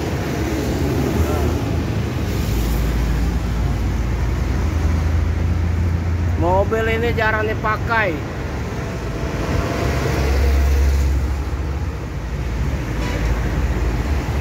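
A 2013 Mitsubishi Triton GLS 4x4 pickup idles steadily throughout with a low, constant engine rumble, while someone talks briefly over it partway through.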